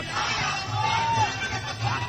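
Large crowd of young people gathered at a victory celebration rally at Shivaji Park, a steady loud roar of many voices with scattered shouts and cheers throughout.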